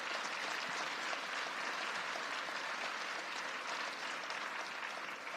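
A gathering at a gun control announcement with Pelosi and Cuomo applauds Senator Kavanaugh and Assemblymember Simon, a steady, dense wash of clapping that holds evenly for several seconds at moderate distance.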